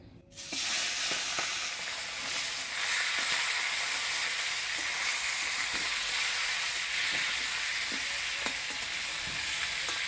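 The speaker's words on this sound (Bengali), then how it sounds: "তেল গরম হয়ে গেছে, এবার মাছের মুড়াগুলা ভাজে নিব।" Catla fish heads fry in hot oil in a village kitchen, giving a loud, steady sizzle and crackle with a few small pops that runs unbroken throughout, with no talk.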